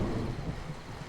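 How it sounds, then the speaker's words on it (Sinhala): Close thunder rolls low and loud through heavy rain pouring over a rocky hillside, a brief unbroken rumble. "ළඟ ළඟම පුපුරලා යන දරුණු අකුණු වල හඬ"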